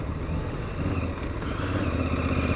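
Aprilia Tuareg 660 motorcycle ridden in third gear, a steady close engine drone with rushing wind noise that holds even and loud throughout, no talk over it.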